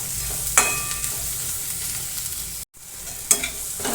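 Chopped onion, crushed garlic and finely chopped green chilli sauté in hot oil in a pan for egg bhurji, giving a steady close sizzle with a couple of brief stirring scrapes and a momentary dropout.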